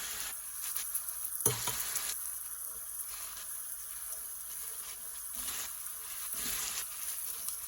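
Meat drippings being deglazed in an Instant Pot for pastitsio, a steady close sizzle with a few sharp scraping bursts as the browned bits are worked loose, no talking.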